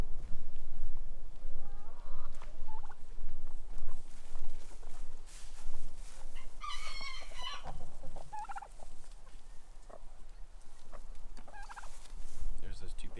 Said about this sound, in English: Chickens are flourishing right now.